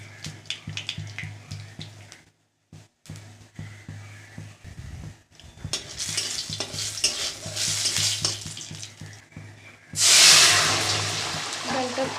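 Dried red chili and mustard seeds tempering in hot oil for a vegetarian dal, stirring clatter and crackling sizzle that cut out briefly, then return with a loud hissing burst near the end.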